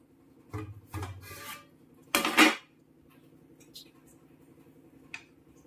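A pressure cooker of ghee rice being opened: metal scraping and clanks as the lid is worked free, a short loud burst of hiss or clatter, then a few quiet knocks of the pot.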